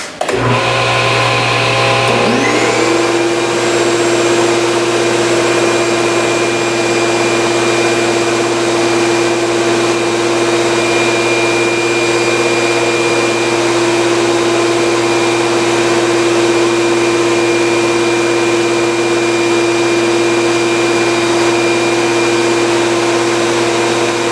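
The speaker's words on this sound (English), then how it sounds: "So you turn that like so, and power on the saw. I would lower the blade down. And then run it." A SawStop table saw spins up and runs steadily with its dust collection vacuum going, a loud constant whine and roar with no talk.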